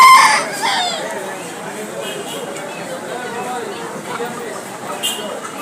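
A cock rooster crows loudly right at the start at a poultry market in Mirpur, Dhaka, followed by softer clucking as voices talk nearby.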